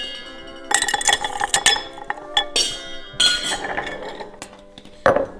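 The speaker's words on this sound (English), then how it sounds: "So we're gonna ice that glass again." Ice cubes dropped and clinking into a cocktail glass while a gin Negroni is built, several bright, close clinks and rattles in irregular bursts, with no talking.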